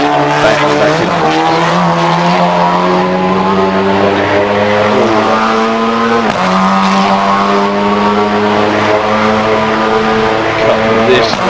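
In Assetto Corsa, a race car engine drones loud and close as it accelerates along the track, its pitch climbing steadily and dropping at two distinct upshifts.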